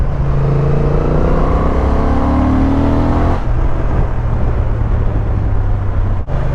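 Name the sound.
Honda Transalp 750 motorcycle engine with 270-degree crank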